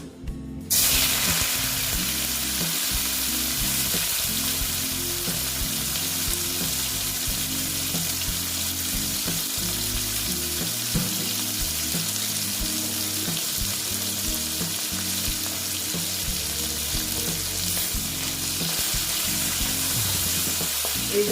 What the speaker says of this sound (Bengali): তেলটা প্রায় গরম হয়ে গেছে এবার আমি না একটু নুন দিয়ে দিলাম দিয়ে শুটকিগুলো আমি ভেজে নিচ্ছি